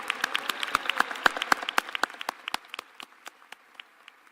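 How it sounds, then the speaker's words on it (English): An audience applauds medical students receiving their MD degrees at a ceremony, with sharp clapping that builds quickly and then thins to scattered, fading claps. "Please join me in a round of applause in recognition of our medical students for their achievements"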